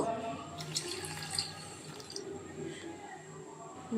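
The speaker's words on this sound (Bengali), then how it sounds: "এরপরে 2 বাটির মতো জল দিয়ে দেব।" Water runs and splashes into a bowl of rice being washed, a soft continuous trickle with small drips and clinks, close and moderate in level.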